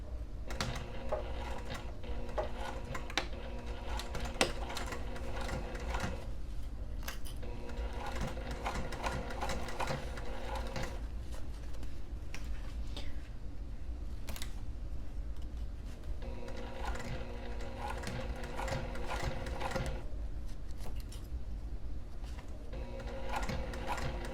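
A sewing machine stitches fabric for a sling bag at a 3.5 mm stitch length, a steady fast mechanical whir and clatter running continuously with slight pauses and speed changes, moderately close.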